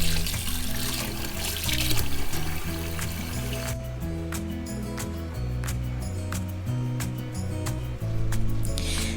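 Water runs and splashes in a sink while mutton pieces are rinsed, with scattered clinks and sloshing; the flow is loud at first, then steadier.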